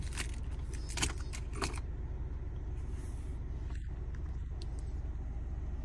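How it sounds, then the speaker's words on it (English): Key fob of a 2024 Toyota Land Cruiser Prado jangling in hand, a few bright metallic rattles in the first two seconds, then a quiet car-interior hum remains. "So this is the key fob."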